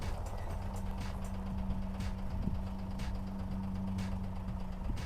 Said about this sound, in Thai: เครื่องยนต์ทำงานดีมากค่ะ